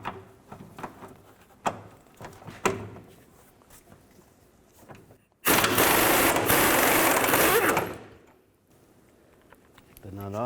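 A 21mm socket on an impact or power tool spins the nut off a rear shock bolt on a 2000-06 Chevy Tahoe, one loud steady burst of about two and a half seconds after scattered clicks and clanks.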